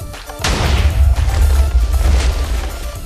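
Cannon shot from a Minecraft war tank, a sudden loud boom early on that rolls into a long low rumbling tail.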